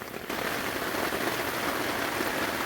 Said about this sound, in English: Can you hear me? It's raining.